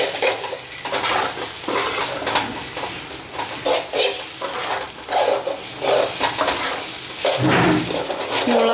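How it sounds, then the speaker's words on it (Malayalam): Chili powder and coriander powder sautéing in a hot pan for a Vishu sambar, with a continuous sizzle and repeated rhythmic scraping and stirring of a spoon against the pan, close and loud. "മല്ലിപ്പൊടിയുടെയൊക്കെ പച്ചമണം മാറുന്നിടം വരെ നമുക്കൊന്ന് വഴറ്റിയെടുക്കാം."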